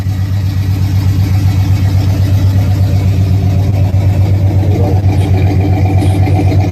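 An all-original muscle car with factory headers, factory ram air and the W30 package idles loudly and close by, holding a deep, steady rumble with a lumpy, even pulse throughout.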